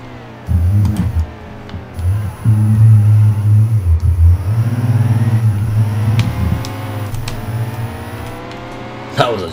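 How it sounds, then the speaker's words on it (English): A race car in NASCAR Heat 2 drifting through a turn at Sonoma, its engine droning and wavering in pitch as it slides through the corner, loud and continuous with a brief tonal whine near the end. "That was a drift around that turn."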